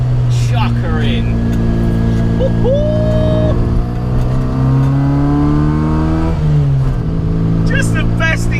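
A classic Mini engine revs and pulls hard in second gear through a bottom corner, rising loudly in pitch with shifts and a brief lift off near the end.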